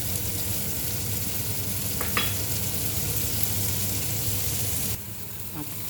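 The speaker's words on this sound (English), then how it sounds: "So just soak up all that brown butter. In with the peas." Gnocchi frying in brown butter in a pan as peas and spring onion are added: a loud, steady sizzle close up, with brief stirring clatter and a slight drop in intensity near the end.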